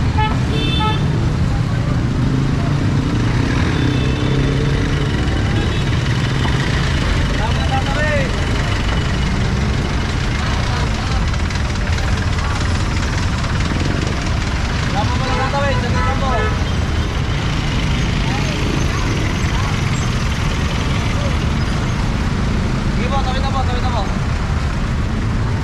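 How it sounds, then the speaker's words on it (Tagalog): Continuous road traffic on a Philippine street, with cars, buses and engines rumbling past steadily and occasional horn toots, loud and close throughout, while someone talks over it. "Tuloy-tuloy ang mga sasakyan, ang mga daraan."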